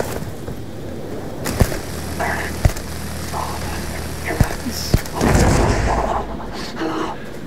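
The Arc Welder weapon fires in Starfield, giving several sharp, isolated electric cracks spaced a second or so apart over game ambience, followed by a burst of noisier crackle.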